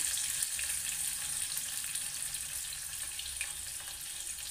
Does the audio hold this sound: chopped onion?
yes